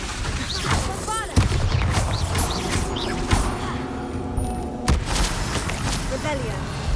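Bombarda spell explosions in the video game Hogwarts Legacy go off as several heavy booms amid busy combat effects, with character voices shouting during the fight.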